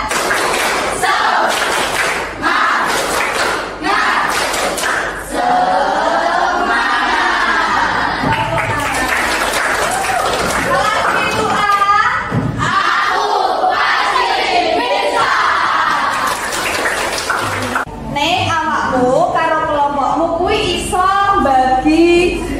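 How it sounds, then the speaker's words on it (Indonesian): Pupils in a classroom performing a tepuk semangat clapping cheer, rhythmic group claps and thumps mixed with loud shouted chanting from many children close by, with an adult voice leading in between. "1 2 3 tepuk semangat."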